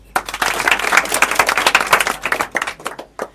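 A classroom of students claps together in a dense, rapid burst of applause lasting a few seconds, fairly loud and close, with the clapping tapering off near the end.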